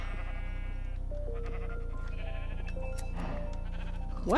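Minecraft sheep in the Sky Factory modpack bleat with wavering, harmonic calls over a constant low background drone, several overlapping bleats spread across the stretch, no speech.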